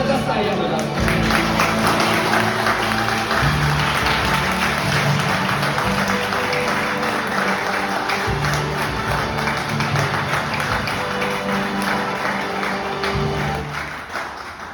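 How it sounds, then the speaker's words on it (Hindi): A seminar audience breaks into vigorous clapping and crowd noise, loud and sustained, with voices mixed in and the applause easing off near the end. "मन करे तो जबरदस्त तालियां बजा सकते हो।"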